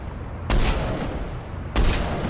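Two heavy Black Widow sniper rifle shots from Mass Effect 3, each a loud, sharp blast followed by a long rumbling tail, spaced just over a second apart.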